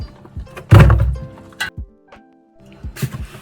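Peppers for a Şanlıurfa-style sour pickle are dropped into a plastic drum lined with beetroot, landing as a heavy close thunk followed by a few lighter knocks and a quiet rustle.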